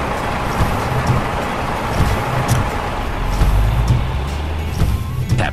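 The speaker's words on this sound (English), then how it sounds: "It is a concrete mixer truck. Revolving drum." A concrete mixer truck with a revolving drum in a children's vehicle game gives off a continuous engine rumble with a low churning drone, steady and fairly loud with small surges and clicks.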